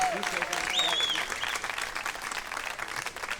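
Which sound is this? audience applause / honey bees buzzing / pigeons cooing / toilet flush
audience applause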